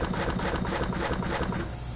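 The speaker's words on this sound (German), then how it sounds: "es ist aber der Kühlschrank, der diese Geräusche macht." A refrigerator in the Empyrion Galactic Survival game drones with a steady, close mechanical hum carrying a fast rhythmic pulsing chatter throughout, loud and unbroken, without any talking.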